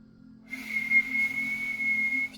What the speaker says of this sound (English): Somebody loves to whistle